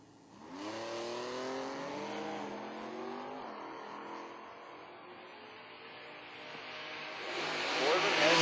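Drag race launch of a 1997 Pontiac Firebird against a Z28 Camaro at an IHRA strip, engines roaring and revving through gear changes with rising and falling pitch, swelling louder toward the end.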